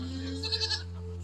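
Goats bleating on a farm after a storm, a short faint bleat rising over a steady low hum of background noise.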